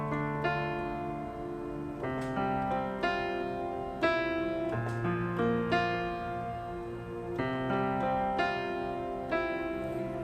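Two-handed piano playing of a song intro, a slow melody over sustained low chords, clear and close with notes ringing into each other, no talking.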